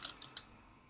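A few quiet keystrokes on a computer keyboard, three light taps in a row over faint background hiss.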